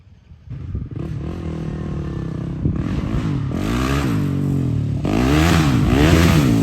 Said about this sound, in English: Have you ever heard a quad get on the rev limiter so quick?